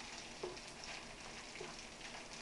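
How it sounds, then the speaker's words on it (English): Rice for shrimp fried rice fries in a pan, giving a soft, steady sizzle with a couple of faint stirring scrapes, quiet and close with no talk. "as it begins to fry until all of the rice has been evenly stir fried."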